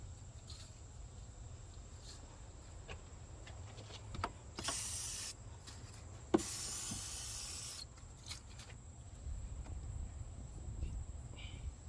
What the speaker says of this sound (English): it's a good idea to spray and clean the area up before reinstalling the brand new transmission mount